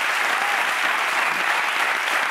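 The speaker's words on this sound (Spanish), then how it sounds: "Un aplauso para Ter." Studio audience applause on a Spanish late-night show, a steady, dense burst of clapping heard close and alone throughout.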